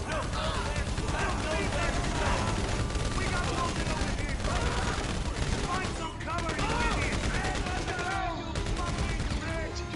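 Rapid shotgun fire in a video game, with dense, continuous bursts of shots layered over game sound and voices for the whole stretch.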